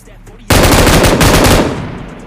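Rapid automatic gunfire from a first-person shooter video game as bots are taken down, one loud burst of machine-gun fire that rings out and decays.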